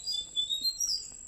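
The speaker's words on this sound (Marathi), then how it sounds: "चिमणीचा आवाज तुम्हाला येत असेल." A sparrow near its small chicks gives a few thin, high chirps, short bright notes in an irregular string, fairly close and faint against a quiet background.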